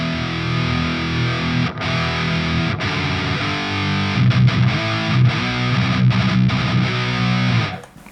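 Heavy distorted riffing from a Schecter Banshee Mach 7 guitar run through a Master Effects Marauder pedal turned up high, loud and steady with brief chugging stops, fading out at the close.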